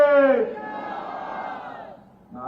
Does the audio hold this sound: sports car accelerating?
no